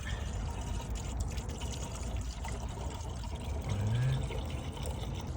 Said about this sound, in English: We're gonna add some coolant.